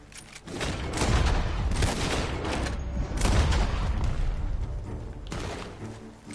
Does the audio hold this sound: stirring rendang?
no